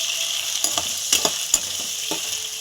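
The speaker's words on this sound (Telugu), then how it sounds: "మెత్తలు ఆయిల్ వేసాం కదా చక్కగా వేయించుకోవాలండి ఇవి ఎర్రగా వేగాలండి" Dry fish sizzles steadily in hot oil, with a spoon stirring through it and scraping now and then, making a few sharper clinks against the pan.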